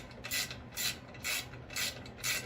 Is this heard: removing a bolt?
yes